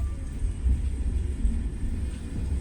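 A low, steady rumble of the Tegal Express passenger train rolling into Cikampek station nearby, with a faint high whine above the heavy drone and no voices.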